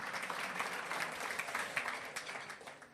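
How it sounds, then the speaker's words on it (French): Audience applause at a Supply Chain network gala in Île-de-France, a steady wash of many hands clapping at moderate, fairly distant level for about three seconds, with faint voices mixed in. "vous pouvez vous applaudir"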